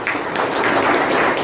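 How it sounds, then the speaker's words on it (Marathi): Audience at a Maratha community student felicitation ceremony applauds in a brief, dense burst of clapping throughout. "गावडे साहेबांसाठी टाळ्या होत्या."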